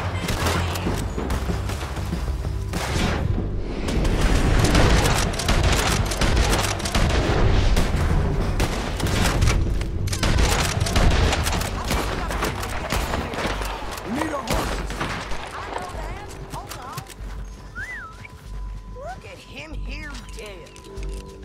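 Gunfire and booming shots in a Red Dead Redemption 2 shootout, a dense fusillade of loud cracks and blasts that fills most of the stretch, with a voice shouting over the noise.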